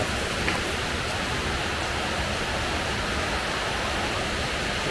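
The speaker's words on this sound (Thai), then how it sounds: "วันนี้มันฝนตกนะครับ" Steady rain falls outdoors while charcoal briquettes are made under cover, a continuous even hiss that holds for the whole stretch with no voices.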